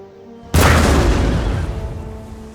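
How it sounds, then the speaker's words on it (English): A sudden deep boom of artillery fire in the battle game Empire Total War, loud and close, with a long rumbling tail that slowly fades over the next two seconds. "we're starting to get some shots off, at least with one of our artillery pieces"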